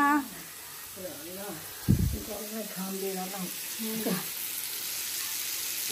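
Pumpkin fries in hot oil with a soft, continuous frying hiss, while a voice talks over it and a brief clatter sounds near the start.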